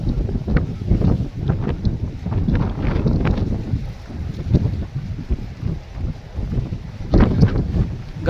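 Strong wind gusts buffet the microphone on a bridge, a loud, rough, continuous roar that surges and eases in uneven waves, with no voices.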